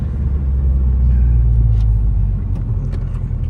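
A rebuilt Subaru BRZ out for a drive, heard from inside as a steady loud low rumble of engine and road noise, with a slight swell in revs partway through.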